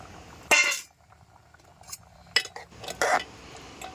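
Sliced tomato is stirred into masoor lentils in a pot: a few bright clanks and scrapes of a metal spoon against the vessel come in short bursts between quiet gaps.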